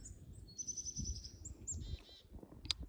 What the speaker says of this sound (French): Une petite mésange.